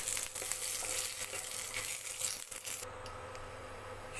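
Cardamom, bay leaf and cinnamon sizzle in homemade ghee in a pan, a soft, crackly, continuous fry with small pops that eases slightly toward the end.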